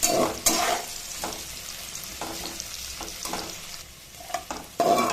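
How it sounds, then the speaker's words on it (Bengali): Onions and whole garam masala fry in a pan with a dense sizzle, broken by repeated scraping stirs and clatter of a spoon, close and fairly loud, with no talk. "পেঁয়াজগুলো বেশ লাল লাল করে ভাজা হচ্ছে,"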